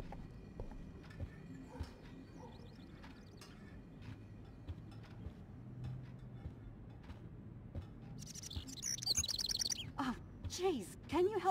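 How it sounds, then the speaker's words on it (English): A bird chirps indoors in the video game Life Is Strange, its bright calls bursting out near the end over a quiet room with soft clatter and background voices. "can you help me get this bird out of here?"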